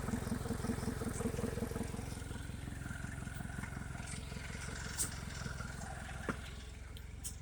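A Suzuki DF175 outboard motor idles steadily after an idle air control valve replacement, its low engine pulse loud and continuous throughout, with a couple of brief clicks or knocks near the end.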